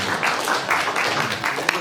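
An audience at a neighbourhood residents' briefing claps to welcome a founding member, a brief, steady patter of many hands mixed with a voice talking over it.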